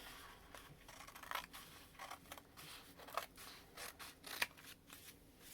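Scissors snip thin strips from a sheet of card in a quiet room, a series of short crisp cuts at an irregular pace, close and fairly soft.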